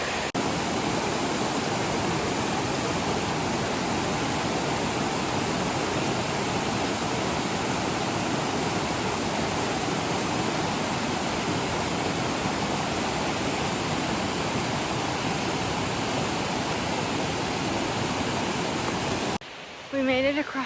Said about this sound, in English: But it's a very beautiful creek.